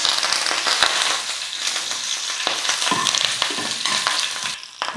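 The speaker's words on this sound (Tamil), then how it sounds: "கடுகு நல்லா பொரிஞ்சிடுச்சு கருவேப்பிலை கொஞ்சம் சேர்த்துக்கிறேன்" Mustard seeds, cumin and curry leaves sizzle and crackle loudly in hot oil, a bright, continuous frying hiss with scattered pops and stirring scrapes.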